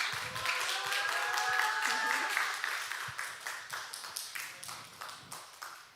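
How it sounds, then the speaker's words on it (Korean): A church congregation at a Sunday worship service claps in celebration of a member's return, starting as a full burst of applause with a cheer, then thinning into spaced, rhythmic claps. "다 같이 복귀 축하 박수"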